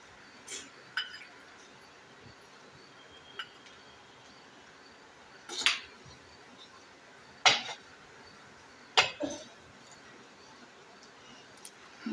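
A ladle scoops okra kadhi out of a pot in a home kitchen, giving a few sharp metallic clinks and scrapes against the rim, spaced irregularly over a quiet background.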